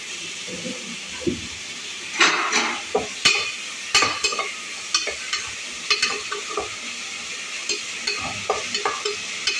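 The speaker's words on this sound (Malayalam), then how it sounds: "ഇത് ചേർത്ത് ഒരല്പം വാടുന്നുണ്ട് തക്കാളി ഒന്ന് വഴണ്ട് വരുന്നുണ്ട്" Tomatoes sautéing in a pan while being stirred with a metal utensil for tomato rice: a soft continuous sizzle under repeated close scraping and clinking strokes in an irregular rhythm, with no talk.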